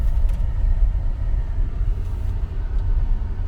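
An MG Gloster SUV taking a corner at speed gives off a steady, loud low engine and road rumble that holds evenly throughout, with no other sounds standing out.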